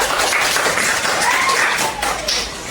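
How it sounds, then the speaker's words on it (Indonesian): Classroom applause for a student during a religious education lesson, a dense burst of clapping from a group of pupils lasting a few seconds, with faint voices mixed in. "Tepuk tangan untuk Cahaya."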